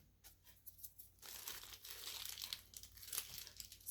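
Plastic piping bag of cake icing crinkling and rustling as it is squeezed, a close, faint, continuous crackle with no talking.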